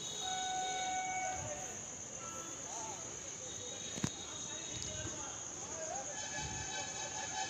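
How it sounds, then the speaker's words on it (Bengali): A Naihati–Budge Budge local train pulls into platform 4 at a station, with a steady rumble, squealing wheel tones and a sharp click, heard from the platform under faint background chatter and insects. "4 নম্বর প্ল্যাটফর্মে ঢুকছে Naihati Budge Budge local, down Naihati Budge Budge local"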